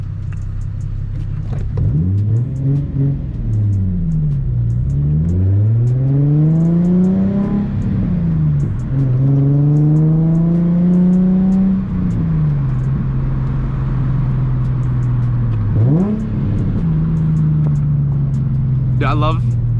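A Nissan 350Z with a single exit exhaust revs through hard pulls, its engine note climbing repeatedly in rising sweeps, dropping between shifts and settling into a steady drone, loud and close from inside the cabin.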